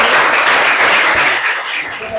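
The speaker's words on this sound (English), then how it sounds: "Please, let's clap for him." Audience clapping at an anti-drug abuse campaign event in Bomadi, Delta, a loud sustained burst of many hands applauding that eases off slightly toward the end.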